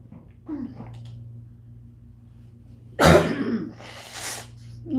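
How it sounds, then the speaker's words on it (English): A single sharp, loud sneeze bursts out after quiet breathing, followed by a shorter breathy exhale. "I gotta sneeze."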